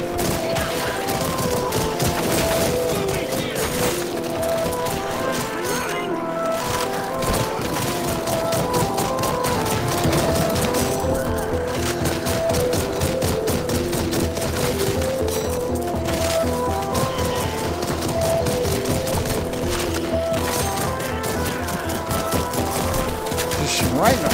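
Rapid gunfire fills the VR shooter After The Fall, with dense bursts of shots and clattering impacts throughout amid game noise and occasional voices.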